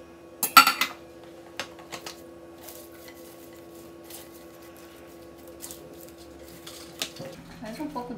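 A spoon clinks and scrapes against a bowl of popcorn being mixed with Nutella syrup, then quieter scattered taps and a sticky stirring rustle near the end, close and soft.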